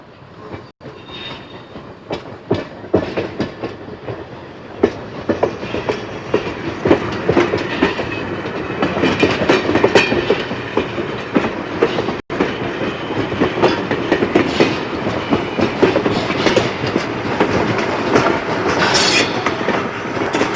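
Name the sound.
train engine running on rails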